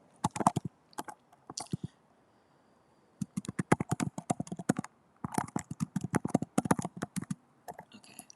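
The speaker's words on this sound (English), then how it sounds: "Since the typing doesn't sound bad, let's go ahead and do more typing." Close typing on a computer keyboard, clusters of rapid crisp key clicks in bursts separated by short pauses, with no talking.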